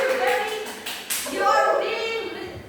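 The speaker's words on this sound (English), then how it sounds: "clap your hands to Miss Luceria." A classroom group claps hands in a short burst of scattered, fairly close claps, with a teacher's voice speaking over and around the clapping.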